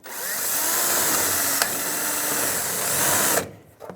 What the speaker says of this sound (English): I'm going to drill a hole right here.